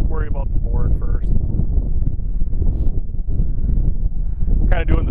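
Wind gusts steadily against a small fishing boat trolling sideways on Lake Erie, a loud continuous buffeting roar on the microphone with brief voices breaking through.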